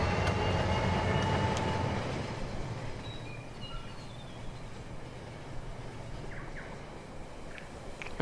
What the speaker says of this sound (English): Now we have two trains going around.